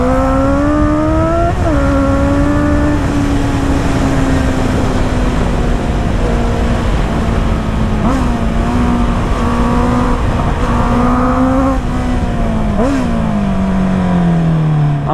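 A 650 motorcycle engine revs hard and loud up close, its pitch climbing and dropping through several throttle blips over a sustained roar, with no talking.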